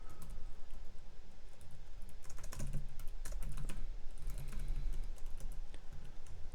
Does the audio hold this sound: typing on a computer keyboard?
yes